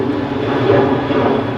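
A jet aircraft departing Manchester Airport, a loud, steady engine roar with a close, broad rumble that holds evenly throughout.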